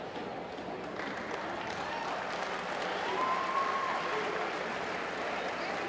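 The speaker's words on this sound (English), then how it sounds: "Duarte goes out to a round of applause." At a men's college basketball game, the home crowd gives a sustained round of applause and cheering, broad and steady, with a brief whistle-like tone rising above it partway through.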